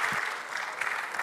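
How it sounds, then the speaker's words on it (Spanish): Church congregation applauding in steady, dense clapping throughout, loud and continuous with no pauses. "Sigue aplaudiéndole a Él"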